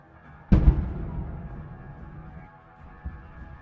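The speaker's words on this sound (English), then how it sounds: "Because of the hit, the ammunition fires. A very powerful explosion" Ammunition in a destroyed military vehicle column goes off after a HIMARS strike, one sharp loud blast followed by a long rumbling decay and a fainter second thump near the end.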